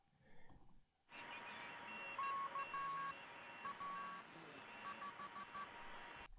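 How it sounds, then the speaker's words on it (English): A radio tuning effect used as an ambient layer in a lo-fi house track, a steady hissing static bed with wavering whistles and short beeping tones that sweep in after a brief quiet start. "I added this radio tuning sound that I found from Splice"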